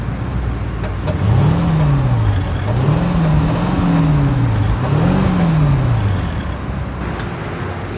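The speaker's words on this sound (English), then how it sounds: "As always, here is that exhaust clip." A 2022 Mercedes-Maybach S580 exhaust revs up and down three times in a steady rhythm, a deep rising and falling growl over a constant idle rumble, close and loud.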